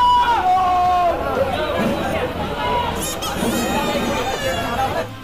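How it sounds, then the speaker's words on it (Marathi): Villagers celebrate noisily at the Ekvira Devi temple near Karla Caves, Lonavala, after a bullock cart race win, a lively crowd of overlapping voices and cheers with a high whistle-like tone early on. "इथे सुद्धा प्रचंड आणि जल्लोष साजरे करताना ग्रामस्थ"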